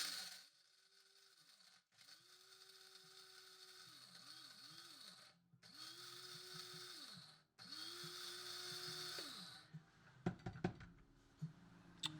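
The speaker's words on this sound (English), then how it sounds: "we are going to grind up our beans" An electric grinder whirs through Kenya coffee beans in a home kitchen, in four steady bursts separated by brief pauses, then a few clattering knocks and taps as it stops.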